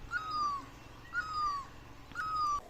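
A panpiu bird calling from among the leaves on a morning near farm fields: three clear, slightly descending whistled notes, evenly spaced and moderately distant, over soft outdoor ambience.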